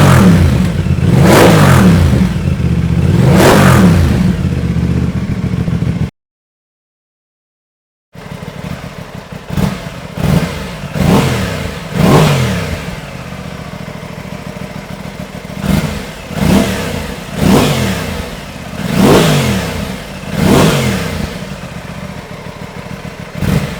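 An Aprilia Tuono 660 motorcycle with an aftermarket budget exhaust is revved repeatedly at standstill: two loud throttle blips, a brief silence, then a series of sharp, close revs rising and falling over an idle.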